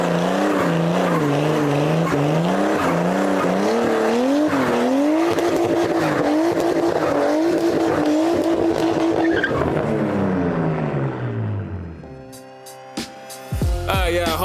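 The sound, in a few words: Nissan R33 rear wheel drive burnout, tires squealing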